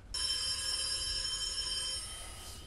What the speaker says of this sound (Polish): Kto włączył telefon?